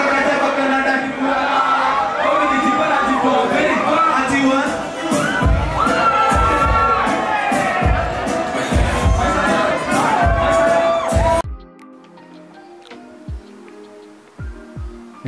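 A large concert crowd cheers and screams loudly and continuously with rhythmic thumps beneath, then suddenly drops to a much quieter hum with a few faint knocks.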